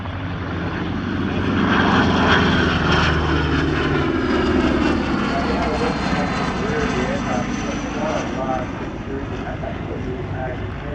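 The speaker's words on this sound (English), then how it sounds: "the world's only airworthy example of the P-2 Neptune" A Lockheed P-2 Neptune maritime patrol aircraft flies past at the Shellharbour airshow, its steady piston-engine drone loud and continuous, with an announcer talking over it.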